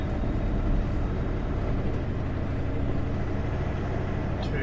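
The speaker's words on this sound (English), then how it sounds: "engine brake" Heavy truck descending eastbound over Anarchist Pass with its engine brake engaged at changing stages, a continuous loud, dense low roar from inside the cab with no talking.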